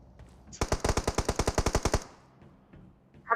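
Rapid automatic gunfire in the mobile battle royale game BGMI, a loud burst of about fourteen evenly spaced shots lasting over a second, followed by quiet game ambience.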